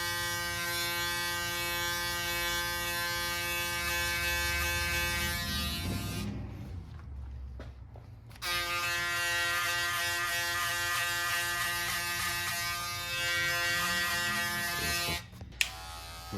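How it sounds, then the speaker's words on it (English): Electric hair trimmer buzzing steadily during a skin fade haircut, a close, strong drone that cuts off for about two seconds midway and then resumes, with no talking. "the trimmer, and then we followed up with the shaver"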